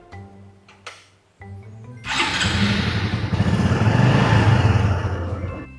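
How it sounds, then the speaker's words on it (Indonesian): A motorcycle engine hooked to an injector cleaning infusion tool starts after a few clicks and knocks, then runs at a steady, loud, close idle. "Pastikan tidak ada kebocoran di selang sini, lalu kemudian hidupkan motor."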